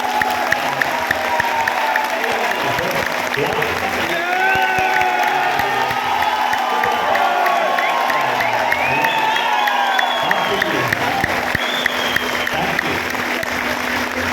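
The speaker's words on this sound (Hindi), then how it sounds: "आप लोगों के लिए लेवल 100 लेवल 1000 जितनी ऊर्जा से तालियां बजा सकते हैं अपने लिए बजा सकते हैं" Sustained audience applause with cheering and occasional whoops fills a hall at a sales training seminar in Raipur, Chhattisgarh, steady and fairly loud throughout without a break.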